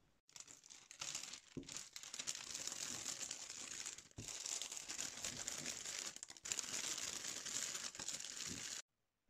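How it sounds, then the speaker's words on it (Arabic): Clear plastic gift wrapping crinkles and rustles close up in continuous bursts for about eight seconds, with brief pauses, then falls silent. "فعندي هذا المشمع، هذا جبته من شي ان، تغليف شفاف"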